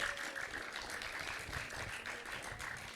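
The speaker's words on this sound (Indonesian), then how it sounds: "Tepuk tangan yang meriah." Lively applause during an Indonesian podcast recording about a free KJP tryout in East Jakarta, a continuous wash of clapping at moderate volume throughout.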